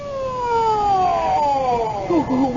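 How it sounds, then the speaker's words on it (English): An ambulance siren wails in an old radio mystery drama, loud and close, its long descending tones sliding downward and then breaking into a quicker warbling pattern near the end. "What's the ambulance for?"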